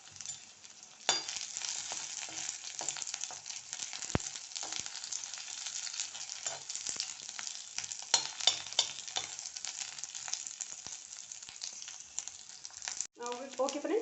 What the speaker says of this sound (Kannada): ನೋಡಿ, ಸ್ವಲ್ಪ ಫ್ರೈ ಆಗಲಿ.